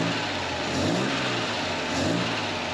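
A 1954 Chevrolet Bel Air with an upgraded 235 six-cylinder and dual carburetors runs steadily up close, its engine note swelling gently in two brief revs over a constant mechanical drone.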